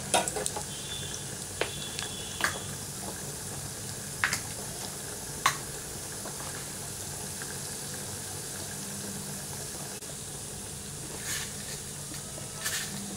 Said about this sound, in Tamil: இதை நல்லா வந்து கோல்டன் ப்ரௌன் வறுப்பண்ணட்டும்.